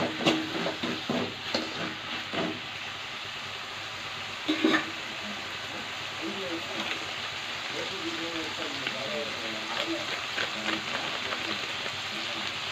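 Tamarind juice going into a pan of drumstick and tomato-onion curry simmering on a village stove: a steady soft sizzle and bubbling with a few splashes early on, close and moderately loud, with a voice talking over it.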